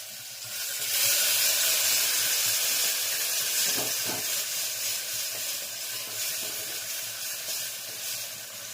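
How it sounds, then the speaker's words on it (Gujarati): Loud hissing sizzle of dal tempering spices hitting hot oil, flaring up sharply at the start and then settling into a steady crackling fry. "દાળનો વઘાર થઈ રહેશે, થઈ શકે છે."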